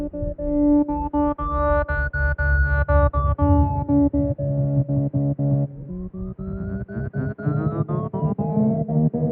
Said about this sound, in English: And then I just added a tremolo over it.